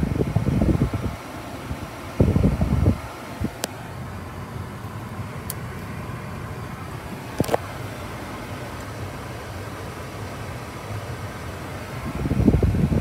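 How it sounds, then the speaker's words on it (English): Steady broadband blowing from the air conditioning fan of a Kia Cerato GT, running constantly across the clip with a few brief knocks and louder bursts of cabin noise. "Aircon blows icy cold."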